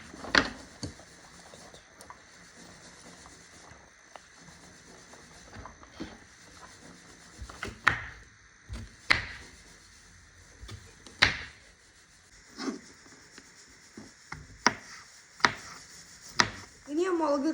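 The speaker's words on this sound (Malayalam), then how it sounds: "ഇനി ഉള്ളി കട്ട് ചെയ്യാൻ പോവാ." Onion chopped with a knife on a board for a home weekend breakfast bread omelette, a series of sharp, close knocks spaced a second or two apart, quickening toward the end over faint background noise.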